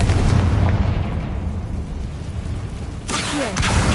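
A Confringo blasting spell erupts in Hogwarts Legacy, a loud booming blast that rumbles and decays, followed near the end by a second sharp burst of crackling energy, with no voices.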